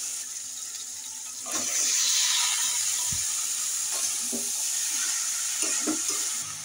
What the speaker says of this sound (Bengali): আমি এবারে মোচাটা দিয়ে দেবো।